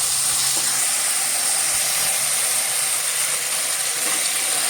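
Semolina roasts in ghee in a pan as a constant dense hiss and sizzle, loud and close, with faint scratchy stirring underneath and no talking.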